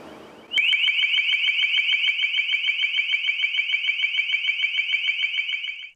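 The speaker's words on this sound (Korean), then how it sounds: "듣기 불편할 정도의 커다란 기계음이 실내를 꽉 채웠다" High-power directional acoustic speaker being tested indoors, blasting a loud, piercing machine tone that starts abruptly and holds steady with a fast rapid pulsing warble for several seconds before cutting off.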